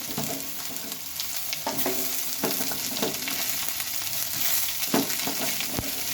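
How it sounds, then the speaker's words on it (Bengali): Onion stalks frying in a pan, a steady hiss of sizzling oil broken by sharp scraping clicks of a spatula stirring and knocking against the metal every second or so, close and continuous. "পেঁয়াজ কুলিগুলো দিয়ে একটু ভালোভাবে এটাকে ভেজে নিতে হবে"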